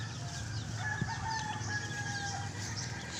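Backyard poultry mini farm with chickens and a rooster, birdsong-like calls and clucking over a steady low background, a rooster crow faintly drawn out mid-clip at moderate distance.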